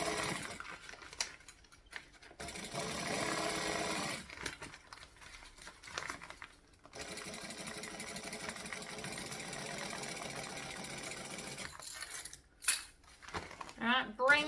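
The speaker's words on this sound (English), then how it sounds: "I'm going to stitch and back stitch." A sewing machine stitching and back-stitching a curved handbag runs in several bursts of steady mechanical whirring, pausing briefly between runs and fading into quieter handling sounds near the end.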